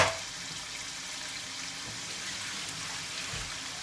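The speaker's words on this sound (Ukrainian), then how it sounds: "Воду, тут, якій вона була, ми зливаємо і брокколі кидаємо сюди" Cooking water is drained from boiled broccoli, a soft continuous hiss and trickle of pouring water, fairly quiet and steady with no talking.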